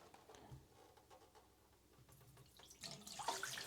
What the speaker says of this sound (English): Let's go ahead and empty that out here in the sink.